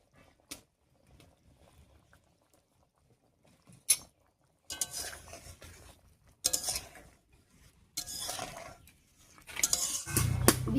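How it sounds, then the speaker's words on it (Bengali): Fried bitter gourd, river fish and roasted ground spices are stirred in a pot. Intermittent metallic scrapes and clatters come in bursts separated by quiet pauses, growing busier toward the end. "ভেজে রাখা উচ্ছে, মাছ আর গুঁড়ো ভাজা মশলাটা দিয়ে খুব ভালো করে মিশিয়ে নিয়েছি"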